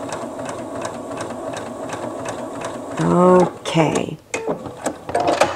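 A sewing machine fitted with a narrow hemmer presser foot stitches a narrow hem in a steady, close mechanical whir with rapid needle ticking, and a person speaks briefly partway through.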